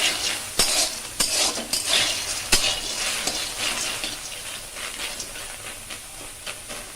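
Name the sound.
gently roasting ingredients for homemade protein powder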